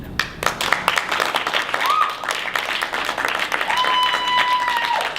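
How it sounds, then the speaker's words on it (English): A comedy club audience claps in a burst of scattered applause, close and lively, with voices and a whistle rising over the clapping. "Let me hear you clap"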